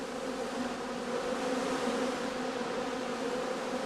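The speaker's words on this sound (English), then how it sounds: "On sunny and warm October days, bees can still be seen flying" On a sunny, warm October day, honeybees fly around straw skeps, a constant, even hum of many wings that stays close and unbroken throughout.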